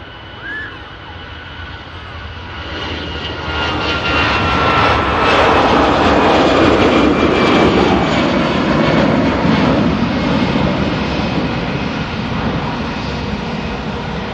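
Airliner jet engines at an airport during plane spotting, a broad roar that swells and holds loud for several seconds, like an aircraft passing nearby, with a faint brief tone early on.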